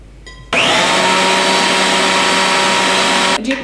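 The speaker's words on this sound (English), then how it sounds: "I'm just going to add this to the blender" A kitchen blender purees cooked cauliflower with butter into a low-carb mash, starting abruptly with a loud, steady whirring motor roar that runs for about three seconds and then cuts off.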